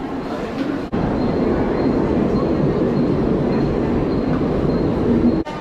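A train rumbles loudly and steadily at an Indian railway station, a continuous close roar of rolling wagons broken by brief dips near the start and end.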